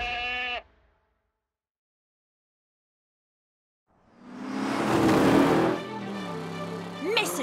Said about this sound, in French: Allez la chèvre.